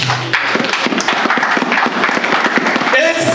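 Church congregation applauding to acclaim the word of God, a dense burst of clapping with scattered cheers, a voice emerging near the end.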